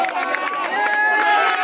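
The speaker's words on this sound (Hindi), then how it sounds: "तालियों से स्वागत किया यहाँ पर इस शॉट को।" Spectators at a local cricket match cheer and clap in a dense, loud wash of crowd noise after a six is struck, with a commentator's voice carrying over the applause.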